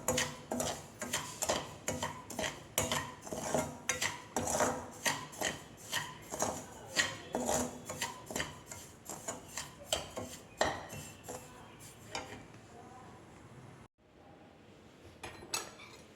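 Semolina (rava) roasting on a hot tawa for upma, stirred with a metal spoon that scrapes and clinks against the pan in a steady rhythmic series of close, fairly loud strokes, ending in a quieter stretch.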